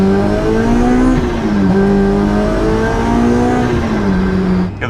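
A Kraftwerks-supercharged Honda S2000 accelerates from around 4,000 RPM in fifth gear, its engine a loud, steady drone that rises and dips slightly in pitch, heard close from inside the car.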